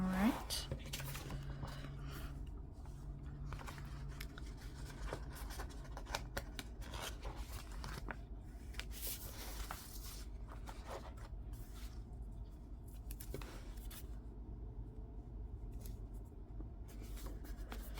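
Soft pen scratching and paper rustling as someone writes in a Passion Planner, quiet and close, with faint whispery movement throughout.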